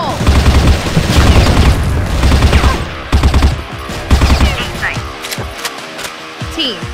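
Grenade blast and bursts of automatic gunfire in CrossFire, loud heavy booms and rapid shots in close succession, with game voice callouts over the action.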